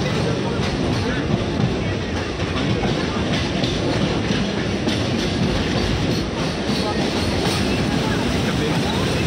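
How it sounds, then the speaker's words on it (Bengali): A train rolls into a station with a constant rumbling clatter of wheels on track that stays loud and steady throughout, with faint voices mixed in. "ট্রেনটা লেট নেই, একদম রাইট টাইমে চলে এসছে"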